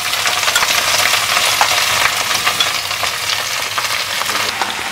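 Onions being stirred into a pan with cooking endives, a steady close sizzle of frying with hissing crackle throughout and no talking.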